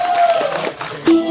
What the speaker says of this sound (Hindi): Let's have a big round of applause for our next performer from bright side.